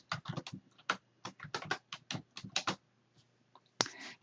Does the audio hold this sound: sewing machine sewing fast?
no